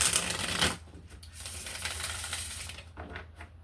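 Tarot cards shuffled by hand in a brief burst of papery riffling and ratcheting card clicks, loudest at the start and then trailing into softer rustling and shuffling, close and with nobody speaking.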